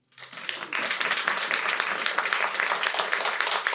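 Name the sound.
audience applause for the organizers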